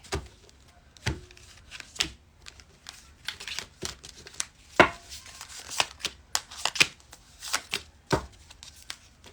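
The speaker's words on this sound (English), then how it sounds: "Cut the deck, okay." An Offerings Oracle card deck is cut and shuffled close by, with repeated crisp riffles and slaps of cards coming in irregular bursts, no voices over it.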